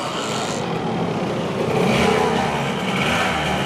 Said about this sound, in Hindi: typical 2 stroke sound